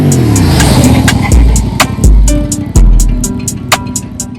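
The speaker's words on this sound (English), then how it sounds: "you can hear some clattering coming out of the brakes" A CFMoto CLC 450 motorcycle brakes hard, its dual-channel ABS pulsing in a rapid rhythmic clatter over the engine and road noise, loud and close.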